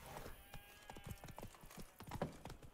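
Hooves of Roach, Geralt's horse in The Witcher 3: Wild Hunt, beat out a steady clip-clop on the road toward Toussaint, close and moderately loud in an even trotting rhythm.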